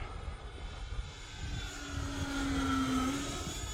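Repaired E-flite Viper 90mm electric ducted-fan RC jet flying at a model airfield, a steady whining roar with a rising tone as it passes, heard from a distance over outdoor background noise.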